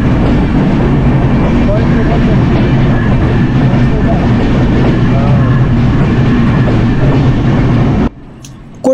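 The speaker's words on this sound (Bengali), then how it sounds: "আমাদের ট্রেন মোবারকগঞ্জ রেল স্টেশন থেকে ছেড়ে আসার 20 মিনিটের মধ্যে চলে এসেছে" A train rolls into Kotchandpur railway station in Jhenaidah, Bangladesh, with a loud, steady rumble and rattle that continues for about eight seconds before cutting off abruptly, leaving near-silence and a faint clack at the very end.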